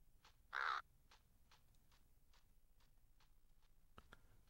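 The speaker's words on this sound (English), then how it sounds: "It's like a crow that's half dead." A single harsh crow caw rings out early, loud and close, as ambient sound in the N64 game Aidyn Chronicles: The First Mage, followed by faint rhythmic ticking.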